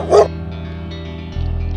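A single short dog bark rings out at the start of a toddler's alphabet phonics song for the letter D, followed by a sustained low musical tone.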